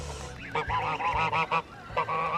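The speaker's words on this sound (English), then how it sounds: "This is Daddy Goose, who stands guard on the outside faithfully." A guard gander on a homestead honks in a quick series of nasal calls, several loud bursts in close succession with short gaps, nearby and alone.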